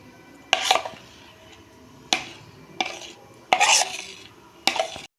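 Eggless cake batter stirred in a pan for a steamed cake: several sharp scraping and clattering strokes of a utensil against the container, with quiet pauses between them, close and alone.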